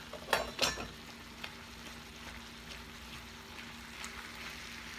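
Ground beef sizzles quietly in a pan while a utensil scrapes and breaks it up, with a couple of sharper scrapes at the start over a steady soft frying hiss.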